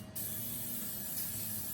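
Disinfectant spray hissing steadily in an auto repair shop, a close, continuous broadband spritz that starts abruptly and holds for under two seconds, quiet and alone.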